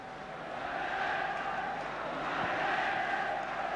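Football crowd at a 1973–74 Liverpool versus Newcastle United match voicing complaint over an offside call, a broad swelling roar of many voices, distant and sustained, rising slightly toward the end.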